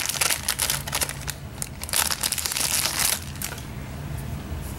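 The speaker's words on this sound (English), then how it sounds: "So let me take it out of the plastic." A plush toy is pulled out of its plastic packaging, the wrapper crinkling and crackling in close, busy bursts that fade to quieter rustling.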